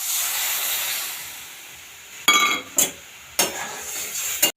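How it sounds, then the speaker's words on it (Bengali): Water poured into a hot pan of fried bata fish hisses and steams, with a soft steady sizzle breaking into several sharp, loud bursts of spitting and clinks close by. "জল দিয়ে দিলাম।"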